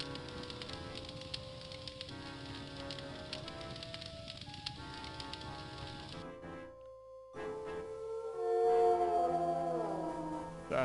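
A long eerie howl sounds in the horror game I Have No Mouth, and I Must Scream, rising over droning, sustained game music and ambience, with a darker, swelling tone near the end.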